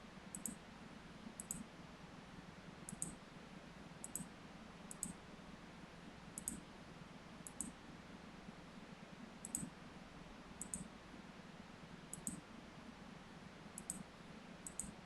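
A computer mouse clicks repeatedly while working in CAD drawing software, sharp small clicks spaced a second or so apart, sometimes in quick doubles, over a faint steady hum in a quiet room.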